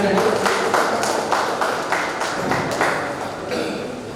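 A crowd applauds to welcome guests at an anniversary celebration event in Jadcherla, with steady dense clapping sustained throughout alongside some talk.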